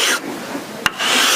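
A long sanding beam rasps steadily along the frets of a left-handed Vintage V99 Les Paul, dry rubbing strokes close by with a brief pause midway and a sharp tap before the scraping resumes.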